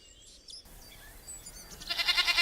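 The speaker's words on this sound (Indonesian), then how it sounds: "ini adalah domba" A sheep bleats in an animated children's program about animals, a nasal wavering cry rising and growing louder toward the end, with a brief higher tone earlier and no talk.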